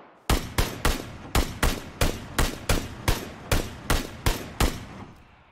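Eleven evenly spaced loud gunshots ring out in the PUBG video game, each sharp crack trailing a short echo, with no voices.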